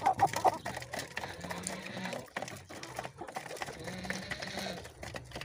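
A hen clucks softly in a backyard flock, a few short low clucks near the start and scattered quiet murmurs amid faint background noise, with no talk.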